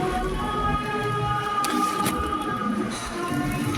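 Heavy afternoon rain heard from inside a church in Parañaque, a steady dense hiss with faint tonal hum and a few brief sharp clicks.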